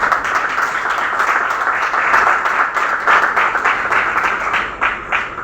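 An audience at an Independence Day celebration held by a church organization in Rawalpindi claps loudly and steadily, a dense continuous roar of many hands that tapers slightly toward the end.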